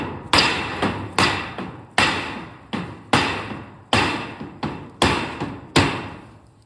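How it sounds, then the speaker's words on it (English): A dead blow hammer thuds sharply against roofing on a wood shed, about eleven dull blows in an uneven rhythm, close and fairly loud with short decays. "I got a little dead blow hammer here"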